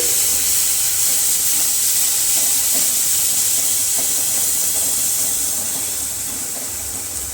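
Fresh cream added to a hot tempering for bottle gourd curry sizzles with a loud, steady, close hiss that softens slightly toward the end, with no talk.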